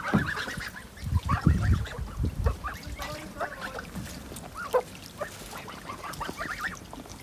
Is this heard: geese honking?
yes